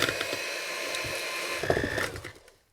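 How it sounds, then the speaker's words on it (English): A plugged-in electric kitchen mixer whirring at close range while making banana bread, a steady mechanical buzz with rattling beater clicks that winds down and stops at the end. "So at least the mixer's not broken."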